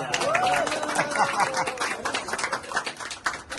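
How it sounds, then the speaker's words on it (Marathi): Guests at a baby shower (dohale jevan) clap together, a scattered ripple of hand claps mixed with chatter and room noise that thins out over a few seconds. "सगळ्यांनी टाळ्या बघून अभिनंदन करायचं"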